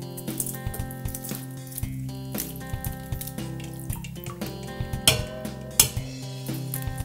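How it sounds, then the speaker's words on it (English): Boiled eggs being cracked and peeled with shells dropped into a bowl, giving close, irregular clicks, taps and crinkly knocks with light clattering against dishware throughout. "I'm just cracking the eggs open, taking the shells off, and put it in the next bowl."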